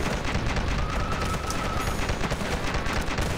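Gunfire in the zombie battle game Dead Ahead: Zombie Warfare rattles in a continuous dense barrage of rapid shots, steady and fairly loud with no pauses, alone without talk.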